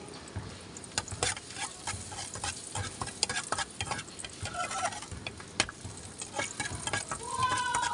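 Garlic frying in a pan for lumpiang gulay, a steady close sizzle with scattered crackles and the scrape of stirring, no voices over it.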